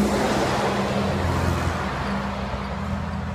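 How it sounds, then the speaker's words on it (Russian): Cars roll past on a road during a morning walk, a steady broadband traffic rumble that stays fairly loud and even throughout, with no voices. "Машины идут."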